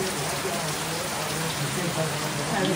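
Steady rain falling outside, a dense continuous hiss of drops on surfaces, even in level throughout the short stretch, with a faint low murmur beneath.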